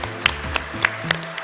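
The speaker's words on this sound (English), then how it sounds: "Round of applause" Scattered clapping from a small audience, a few sharp claps standing out over a low steady murmur.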